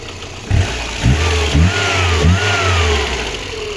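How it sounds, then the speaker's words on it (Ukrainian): A VAZ-2115 petrol engine with a dead first cylinder idles loudly nearby, with a few short revs that rise and settle back into a steady rumble. "двигунчик працює в принципі непогано, все хорошо з ним"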